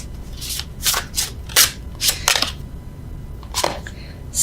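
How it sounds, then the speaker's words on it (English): Tarot cards are shuffled by hand in a series of short, crisp bursts of card slaps and rustles, spaced irregularly and heard close up. "Normally I riffle shuffle, but I don't feel like it."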